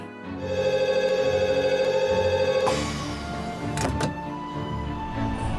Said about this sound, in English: That sounded like a phone call